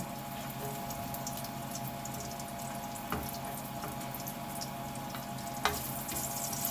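Garlic fries in a pan as the sauté base for Ilocano pork cassava, a steady, fairly quiet hiss with a couple of faint clicks, and no talking.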